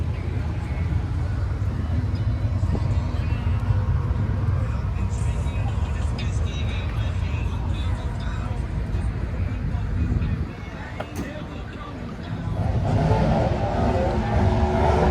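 A Henry J classic car rolls along in a drag car parade at an NHRA U.S. Nationals show, a steady loud engine and road rumble throughout, briefly dipping near the end, with voices in the background.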